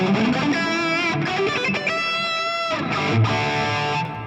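Schecter BlackJack electric guitar through a Valeton GP200LT with hall reverb, sounding a few sustained distorted notes and chords whose tails ring out into a wide, washy ambience, played alone.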